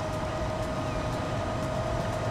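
A regional train arriving in the video game Transport Fever 2, heard as a steady, even rolling rumble with a faint tonal whine running through it and no speech.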